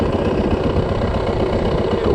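A Yamaha 450 dirt bike engine runs at a steady, loud idle, its dense mechanical rumble continuous and close throughout with no talking.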